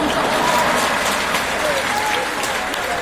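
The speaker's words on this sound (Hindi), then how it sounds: "तालियां तो देते हैं आप लोग" Audience applause at a Jain initiation (diksha) ceremony in Jabalpur, a dense steady wash of clapping from a large crowd that holds at a constant level for the full stretch, with faint crowd murmur beneath.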